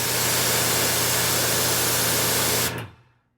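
Cooling fans of an EcoFlow electric generator run as a loud, steady broadband whir with a low hum, holding level for almost three seconds and then winding down quickly to silence.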